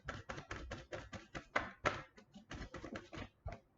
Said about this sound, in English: The shuffle is very loud for you guys.